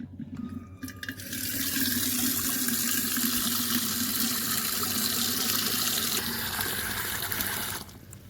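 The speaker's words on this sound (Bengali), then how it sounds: "জল ভর্তি হয়ে গেছে বন্ধুরা, দেখতে পাচ্ছ।" Tap water gushes steadily into cooking pots in a village, a loud continuous splashing rush that starts abruptly after a second and cuts off near the end.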